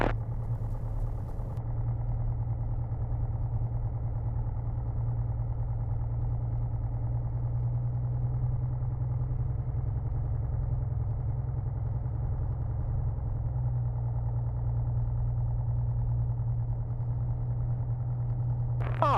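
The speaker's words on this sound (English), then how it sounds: "All right, we're taxiing out now." Steady engine idle from an airplane before it taxis out, a constant low drone with a strong low hum that holds evenly throughout, close and continuous with no talk over it.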